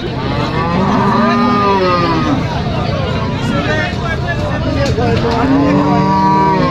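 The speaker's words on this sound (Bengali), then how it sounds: "অনেক বড় একটা গাভী, অনেক বড় একটা গাভী।" A large dairy cow moos repeatedly with long, drawn-out calls at the busy Hazratpur cattle market in Dhaka district, close and loud over a constant crowd babble and people talking nearby.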